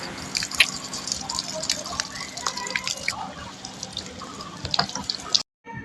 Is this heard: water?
yes